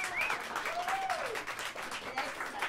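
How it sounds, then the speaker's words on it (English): Crowd applause in a jazz club for a bassist, dense clapping from an audience that stays loud and steady throughout, with faint whistles rising above the hands. "How about a round of applause for him?"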